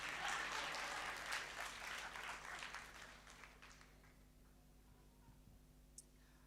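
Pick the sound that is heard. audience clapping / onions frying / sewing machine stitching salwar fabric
audience clapping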